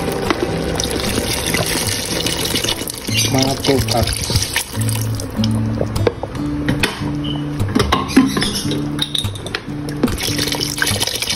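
Mineral water pours into a pot of chicken sopas with potato, a steady liquid splash running beneath continuous close talk.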